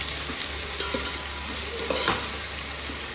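Vegetables stir-fried for Chinese bhel, with a low steady sizzle from the pan and a few soft scrapes and clinks of the spatula, fairly faint and close, no talking.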